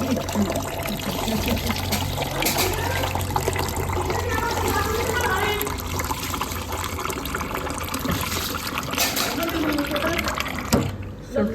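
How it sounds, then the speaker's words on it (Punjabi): Water pours into a pot with a steady, close gurgle that keeps going for several seconds, while people talk over it. "ਪਾਣੀ ਪਾਵਾਂਗੇ ਘੱਟ ਪਾਇਓ ਪਾਣੀ"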